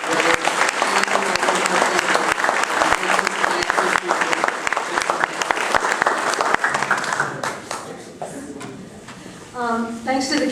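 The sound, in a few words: audience applause for candidate forum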